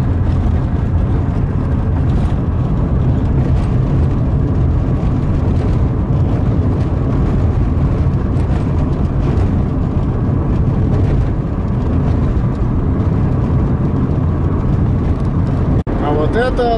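A car drives along a concrete-slab road toward Ustyuzhna with a loud, steady engine drone and rumbling road noise throughout. The droning continues without a break.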